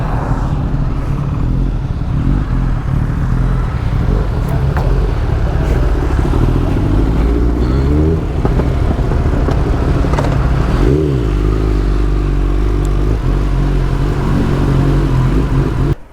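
Superbikes such as a ZX-10R, BMW S1000RR, Hayabusa and Z1000 on a road, a constant roar of wind and engine with a couple of rising and falling engine notes as machines pass close by.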